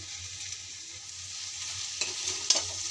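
Potatoes and yardlong beans fry with dry-ground poppy seed paste in a pan, a steady soft sizzle broken by a few light clinks of stirring near the end.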